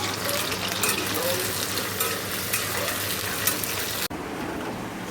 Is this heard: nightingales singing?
no